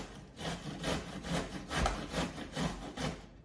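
Zucchini with the skin on is grated by hand, a steady, rhythmic rasping of about eight close strokes, each a broad scraping swish, with no talking.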